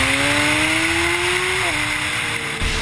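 Sport motorcycle with a 1000 cc engine at speed on a race track during a racing camp, its engine note loud and steady with pitch rising gradually, then dropping briefly at a gear change, a continuous strong mechanical roar.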